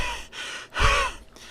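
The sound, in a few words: voice imitating labored gasping breath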